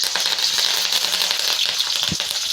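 Onions, green chillies and curry leaves fry in hot oil for gobi rice, a steady loud sizzle with fine crackles and one brief pop, close and without talk.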